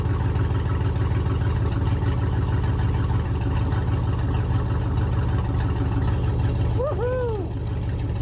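An LS-swapped car engine idles steadily with a low rumble, with a brief rising rev near the end.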